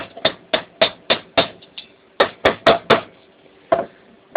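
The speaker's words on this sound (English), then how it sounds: "give the cranked end of the shaft a tap with your pin hammer" A pin hammer taps the cranked end of a shaft fitted with a gear wheel, resting on a flat surface: about a dozen sharp, close metallic knocks in a steady then slightly uneven rhythm.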